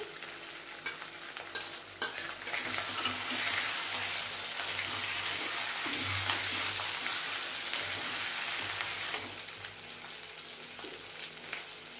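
Cashews fry in a pan for a prawn curry, with a steady bright sizzle and the scrape of stirring up close. The sizzle grows louder through most of the clip, then eases near the end. No one speaks.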